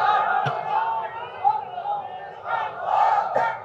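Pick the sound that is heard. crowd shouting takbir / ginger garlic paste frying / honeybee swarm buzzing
crowd shouting takbir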